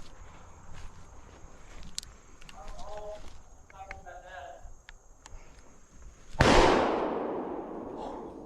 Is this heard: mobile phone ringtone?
no